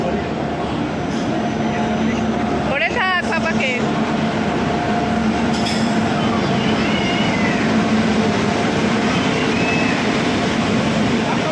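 Steady rumbling noise of a passenger train runs throughout, continuous and fairly loud, with brief higher cries from someone aboard and voices talking over it.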